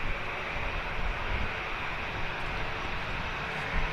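An EasyJet airliner lines up on the runway, a steady, loud broadband engine roar with a constant low rumble and no talking.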